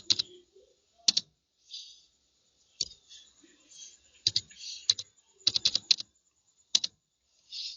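Numbers are entered on a computer keyboard in short, sharp bursts of key taps separated by quiet gaps, close and clear with no one talking.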